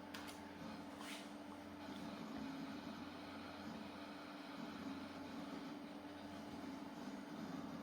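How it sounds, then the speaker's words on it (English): Continuous low hum with faint rattling activity from a 1999 hard disk drive seeking while an old Windows 98 PC boots, a steady mechanical drone with no speech. "That's the sound of a 1999 hard disk"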